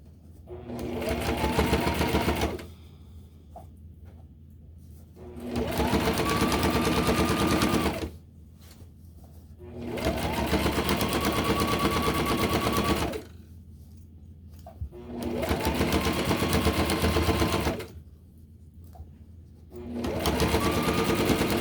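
A sewing machine stitches a tote bag in five loud bursts of a few seconds each, every run rising to steady speed, separated by short pauses while the fabric is stopped and readjusted.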